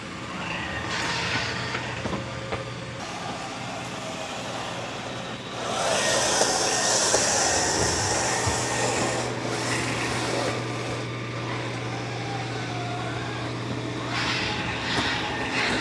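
A Mova P10 Pro robot vacuum cleans a room in a crisscross pattern, giving a steady close whir with a low motor hum and a brighter brushing rasp that swells midway through.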